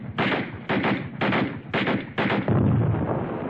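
Heavy automatic gunfire in a 1965 war film, loud rattling bursts repeating about every half second, then a sustained rumbling roll of fire, close with no speech.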